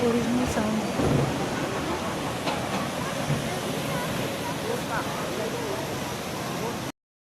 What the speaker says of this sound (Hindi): अलकनंदा नदी का यहाँ ओरिजिनल साउंड है।